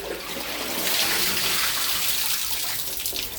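A sari is dipped in and lifted out of water by hand, making a continuous close swish and splash of sloshing water with no speech.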